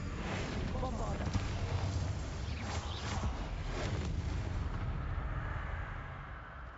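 A booming explosion from the Bombarda spell in the video game Hogwarts Legacy, a faint rolling rumble that fades out, with a voice mixed in.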